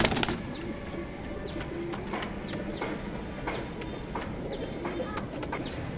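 Pigeons coo and rustle inside a busy pigeon loft, layered calls close by over a dense murmur of birds, with scattered clicks and wing movement throughout.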